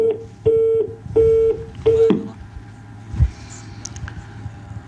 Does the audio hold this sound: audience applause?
no